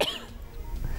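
A single close, loud cough with a short throat-clearing rasp, heard in a television studio discussion setting with no speech over it.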